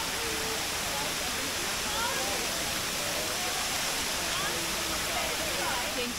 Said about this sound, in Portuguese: Olha que cachoeira incrível.